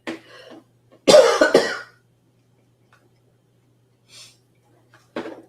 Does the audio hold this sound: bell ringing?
no